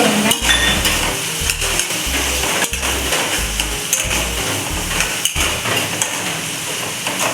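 Pumpkin bhaji stirred in a pan, with repeated scraping and clattering strokes of a spatula against the metal, loud and close in an irregular rhythm over steady cooking noise.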